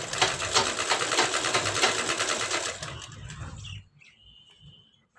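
A sewing machine stitches a blouse belt in a fast, continuous run with even needle rhythm, then stops abruptly, leaving quiet room sound and a faint chirp.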